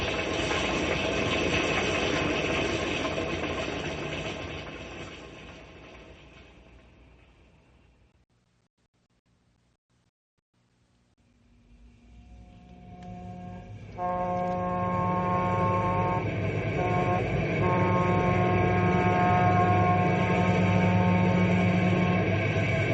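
A steam train engine runs on rails in an old radio drama, a loud, steady mechanical roar and clatter that fades almost to silence, then returns just as loud with some ringing tones.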